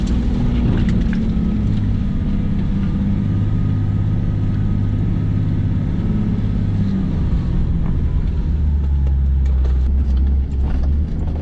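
Off-road 4x4 engine at a year-end off-road rally with roadbook, running loud and steady with deep low rumble throughout, revving slightly toward the end.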